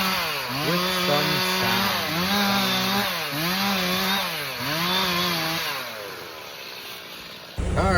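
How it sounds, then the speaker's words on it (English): Chainsaw cutting down trees at a homeowner's property during excavation work, loud and close, repeatedly revving and bogging down through wood in rising and falling cycles before it drops to idle. "we'll edit over this chainsaw noise"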